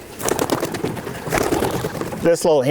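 A racing cock pigeon coos briefly near the end, a soft throaty burbling right after someone talks about his birds close by, with general background noise throughout.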